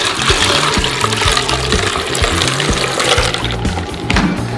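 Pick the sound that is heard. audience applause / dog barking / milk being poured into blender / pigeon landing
milk being poured into blender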